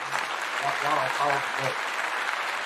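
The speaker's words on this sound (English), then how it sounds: "Can you please clap it up for yourself?" Applause from a studio audience after a panel talk show on dating, steady clapping running under a voice speaking through much of it.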